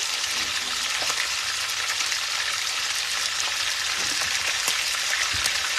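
Pork chops frying in a pan over high heat: a dense, continuous crackling sizzle, close and loud, with a few small pops and no voices.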